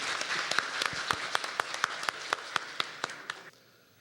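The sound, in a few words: audience applause at a symposium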